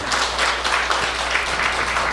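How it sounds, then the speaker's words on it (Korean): A church congregation bursts into dense, steady applause during a Sunday Thanksgiving worship service, a loud wash of many hands clapping together without pause. "은혜 주신 하나님 앞에 감사로 박수 한번 영광 돌려주시기 바랍니다"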